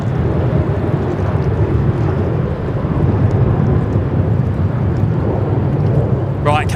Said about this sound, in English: I'll just get the next arrival. The Nardo Jetstar. This one in from Melbourne.